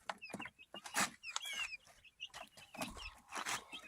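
A small flock of newly bought chickens, roosters and hens, clucks and chirps nearby in quick irregular bursts, several birds calling over one another.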